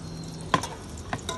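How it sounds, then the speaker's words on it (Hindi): Onions being stirred in ghee for a chickpea biryani, with a faint sizzle under two or three sharp scrapes of a spoon against the pan, close and without talk. "ये हमने प्याज डाल दिया,"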